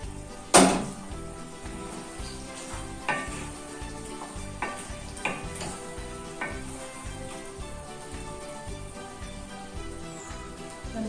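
Chilli garlic chicken sizzles in a pan while being stirred, a loud knock at the start, then steady frying hiss broken by intermittent scrapes and clatters, no voices.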